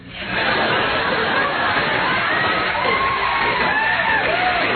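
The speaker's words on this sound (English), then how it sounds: "She's getting applause with this stuff" Studio audience on a radio comedy show cheering and clapping for a deaf comedian, a dense, steady wash of crowd noise with whoops rising over it throughout.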